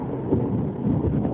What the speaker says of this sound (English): Excuse the thunder.